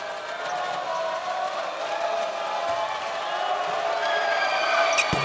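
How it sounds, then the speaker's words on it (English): Basketball arena crowd at a TPBL play-in game between the New Taipei Kings and New Taipei CTBC DEA, a steady roar of cheering that swells slightly, with a sharp ball bounce near the end. "Crowd making some noise."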